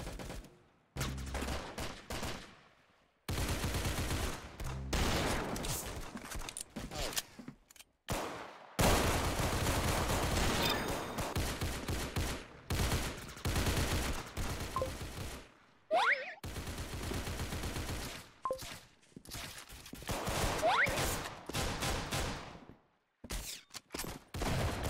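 Rapid gunfire in a Roblox shooter game, dense bursts of automatic shots and volleys repeating in clusters separated by short silences, loud and close throughout.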